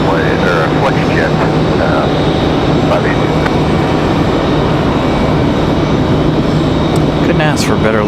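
Jet airliner, a Southwest plane, at Raleigh-Durham International Airport, giving a steady broad engine roar that holds loud and unbroken throughout, with a voice talking over it.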